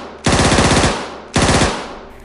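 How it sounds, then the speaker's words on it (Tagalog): Armalite rifle gunfire sound effect: two rapid automatic bursts, each a dense rattling string of loud, close shots that ring and fade before the next burst. "sunod-sunod na putok mula sa Armalite"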